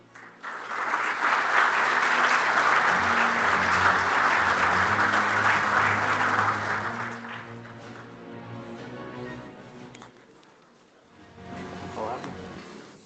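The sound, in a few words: applause for the award presenter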